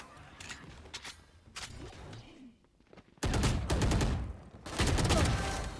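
Rapid automatic gunfire from the video game Valorant, starting with scattered shots and then breaking into two loud, sustained bursts that fill the second half.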